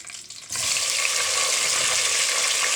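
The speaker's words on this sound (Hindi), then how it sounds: "अब हम इसमें बैंगन डालेंगे।" Half a kilo of eggplant dropped into hot oil tempered with curry leaves, cumin, mustard seeds and fennel, a sudden loud, steady hissing sizzle that starts after a quiet moment and continues close and unbroken.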